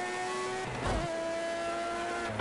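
A race car engine in Project Cars 2 revs hard and steadily close up, its pitch dropping and climbing between shifts, with a brief rumbling bump partway through.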